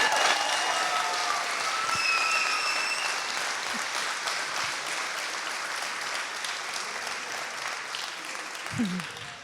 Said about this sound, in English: Big round of applause for Kevin.